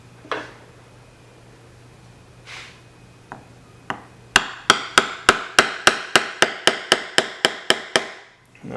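A hammer strikes a tool into leather while a card wallet is being made, starting with a few scattered taps, then a steady run of about a dozen sharp, evenly spaced, loud blows close by.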